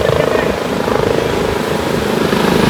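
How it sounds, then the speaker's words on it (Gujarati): A helicopter flying overhead at the beach in Daman, apparently on a rescue flight near floodwater, giving a loud, close, steady rotor thump with a rhythmic pulse for the whole moment. "હેલિકોપ્ટર આવ્યું છે ભાઈ."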